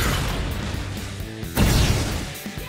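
Fire attack skill in the game Persona 3 Reload: a sudden loud burst partway through, a whooshing, crackling blast that swells over a sustained rumbling background and then slowly fades, with no voices.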